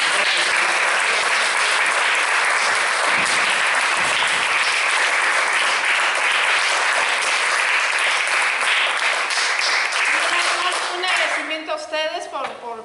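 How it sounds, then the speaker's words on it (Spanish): Sustained audience applause fills a theatre hall at a theatre group's event, dense and loud clapping throughout, with voices emerging and the clapping thinning out toward the end. "Damos un pequeño aplauso."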